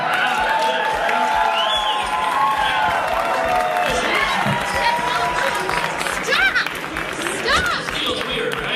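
Raucous comedy club crowd cheering, whooping and applauding as a heckler is removed by security, a loud continuous roar with voices shouting over it throughout.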